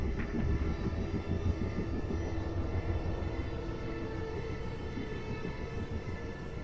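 A helicopter engine drones as a steady, constant low rumble throughout, moderately loud with no voices.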